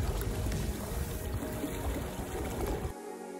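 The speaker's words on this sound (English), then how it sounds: "You can hear the water running underneath the ice." Water running underneath the ice at the Kastner Ice Caves in Alaska, a steady rushing, gurgling flow heard close and fairly loud, ending abruptly.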